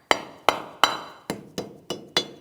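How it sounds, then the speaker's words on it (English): A rubber mallet tapping a protective cover onto the front axle hub of a 2007–2014 GMC Sierra 2500 HD, seven sharp, close, evenly spaced knocks with a slight metallic ring, alone without talk. "We'll tap this in place using a rubber mallet."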